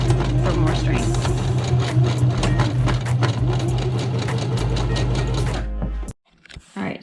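A sewing machine stitches back and forth over a seam on a cushion for a vintage Toyota Dolphin camper van, a loud, steady mechanical hum and rapid clatter that stops abruptly near the end, with faint voice traces.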